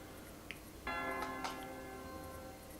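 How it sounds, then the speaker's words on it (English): A church bell rings in the King's Quest II PC adventure game, a single synthesized chime with ringing overtones that sustains and slowly fades, moderately loud with no talk. "The bell's ringing."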